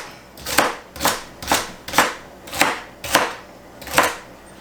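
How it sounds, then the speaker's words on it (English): A knife chops unpeeled carrots into rustic chunks for a beef stew, seven evenly spaced crisp chops landing on a board at close range, with no talking. "I'm just going to give them a nice chop."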